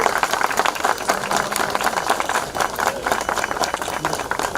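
Steady applause from a crowd at the opening of a new-generation agriculture project, dense clapping that holds at an even level throughout with murmured voices underneath.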